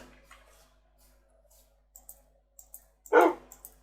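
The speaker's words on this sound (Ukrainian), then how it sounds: "Приручимо песика." A dog in the TerraFirmaCraft Minecraft game gives a single short bark near the end, preceded by a few quiet clicks and faint game sounds.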